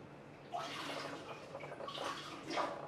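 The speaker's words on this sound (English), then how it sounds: "let me pour some water over my hands so they're sort of clean" Water splashes over gloved hands during home film developing, a soft trickling pour that comes in uneven bursts and swells, close up and without speech.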